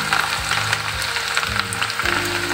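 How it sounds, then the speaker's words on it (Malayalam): Torn garlic cloves frying in hot oil for a dried mango pickle produce a loud, close, continuous sizzle, with a few scraping stirs and low bumps from the pan. "ഇത് 2 തുടം വെളുത്തുള്ളി ഉണ്ട്, ഇതുപോലെ കീറി ഇങ്ങോട്ട് ഇട്ട് കൊടുക്കാം"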